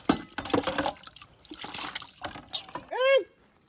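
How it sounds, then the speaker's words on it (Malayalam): Water is poured over a sugar glider during its bath, making splashing and trickling bursts at moderate volume. A short, high rising squeal is heard near the end. "ഇനി അത് നല്ലോണം വെള്ളം ഒഴിച്ചു കൊടുക്കാം"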